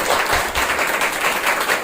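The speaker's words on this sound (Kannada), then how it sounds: "ಅವ್ರಿಗೊಂದು ಜೋರಾದ ಚಪ್ಪಾಳೆ ಬೇಕಲ್ಲ" Loud, steady applause from an audience for a children's dance at a preschool and day care summer camp event, dense clapping sustained throughout.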